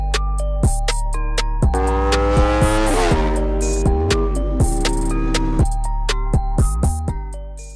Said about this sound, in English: I think this is the best sounding bike, a close tied first place with my R1M.